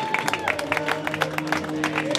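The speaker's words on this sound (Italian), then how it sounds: "Un applauso per gli Zingati," Crowd applause at a beach volleyball tournament prize ceremony for the third-place team, brief steady clapping from a gathered audience with a musical tone running underneath.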